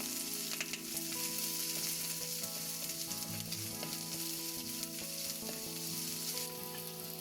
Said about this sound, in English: Now we're going to add the green peppers and stir those.